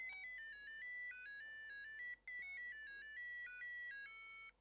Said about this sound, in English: When we press on the Polly Pocket's hearts, it kind of ring the bell.